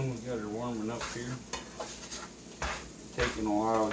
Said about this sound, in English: Taking a while to get the pan hot.